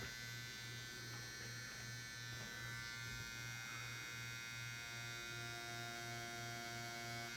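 A tattoo machine buzzes steadily while tattooing a betta fish design onto practice skin, a continuous low pulsing hum with a faint electrical whine, running alone without talk throughout.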